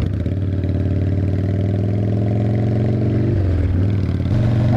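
A motorcycle engine runs steadily up close while the bike rides along on the way to I-10, a loud continuous throb with layered harmonics that briefly dips and shifts pitch near the end as the rider changes speed.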